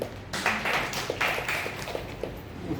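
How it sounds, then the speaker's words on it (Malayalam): An audience claps by hand in a short, close burst of irregular claps that gradually thins out. "ഇനി രണ്ടുപേരും കൂടെ ഒന്ന് കൈയടിക്കും"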